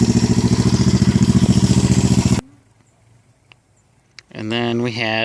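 A Honda CB350 motorcycle barn find runs with a fast, even, throbbing engine beat that cuts off abruptly, followed by near silence and then someone speaking.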